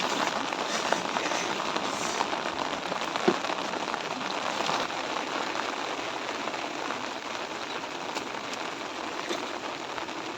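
Heavy rain during a fishing trip, a dense continuous patter of raindrops on surfaces with an occasional sharper splash, steady and fairly close with no talk.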